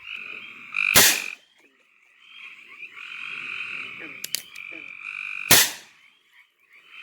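Frogs at a pond croak in repeated bursts with buzzy calls, while a few sharp loud cracks punctuate the scene.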